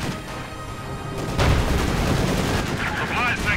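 Rifle grenades fire in a Company of Heroes 2 match, giving a loud burst of explosive booms and crackling gunfire that fills the battle soundscape from about midway on.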